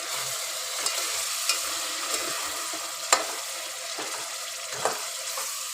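Paneer and onion paste frying together in oil, a close continuous sizzle broken by sharp scraping clicks of a spoon stirring against the pan, with no voices.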